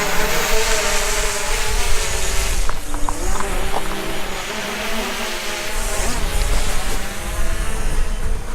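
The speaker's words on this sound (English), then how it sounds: "Drone tied to the front, I mean the handle there, and about to take off." A small camera drone tied to a bicycle handlebar on a desert trail spins up its rotors for takeoff, giving a steady close buzzing whine that holds loud throughout, with faint wind and outdoor rumble beneath.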